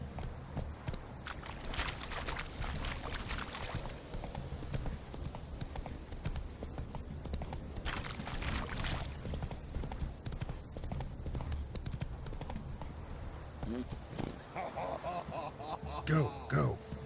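Hooves of Roach, a horse in a video game, clip-clop steadily through the whole stretch over continuous game ambience, with occasional shouted voices from a rider during a race.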